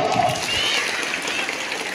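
Children clapping at a residential school event, a short burst of loud, dense applause in a room that carries on for about two seconds, with a little crowd noise under it.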